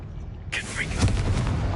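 A Confringo blasting spell explodes in Hogwarts Legacy: after a quiet half second, a sudden loud blast erupts and rolls into a sustained rumbling roar that keeps on to the end.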